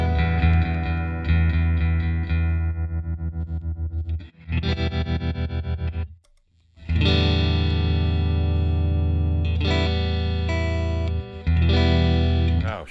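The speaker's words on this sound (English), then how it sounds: "how do the tremolos compare?" Tremolo and reverb tones from two tube guitar amps, an Elk Echo Custom 60 and a Fender '68 Custom Deluxe Reverb, heard as loud, pulsing distorted guitar chords in bursts, with a short gap and swells of wobbling sustain.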